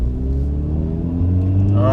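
A remapped Volkswagen Golf R set to race mode pulls away, its engine a loud, close, continuous drone that climbs in pitch toward the end.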